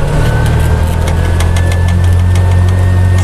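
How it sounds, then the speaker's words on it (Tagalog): TVS King three-wheeler engine running loud and steady at high revs just before a gear change, a continuous strained drone with rough knocking texture throughout, no voices. "kasi kapag narinig na po natin, galit na yung makina"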